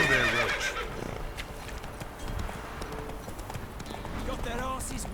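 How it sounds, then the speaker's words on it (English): Horse in The Witcher 3 video game whinnies loudly at the start, then its hooves clop along at a steady pace under game voices and talk. "Whoa there, Roach"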